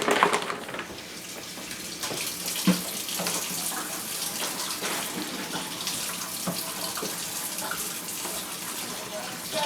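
Water is poured from a tap into a pot while preparing egg rolls and quesadillas in a home kitchen, a steady close splashing rush that runs without a break for the whole stretch.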